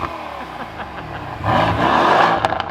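A Lamborghini Aventador fitted with a new Quicksilver exhaust idles with a throaty rumble, then swells into a brief, louder rev close by.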